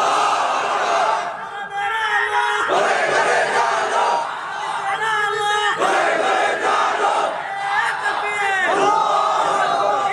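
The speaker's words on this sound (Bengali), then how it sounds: "এবার একজন জোয়ান তুমি স্লোগান দিবা, শিখাই দিবা এই এলাকার মানুষকে কিভাবে স্লোগান দিতে হয়" A large crowd at an Islamic religious sermon gathering in Bangladesh shouts the takbir slogan in loud, repeated unison chants that rise and fall across the whole stretch, with a leader's calls between the responses.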